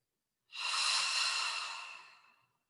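A single long, deep inhalation during a calm yoga cool-down, breathy and close, swelling quickly then tapering off over about two seconds, alone in silence.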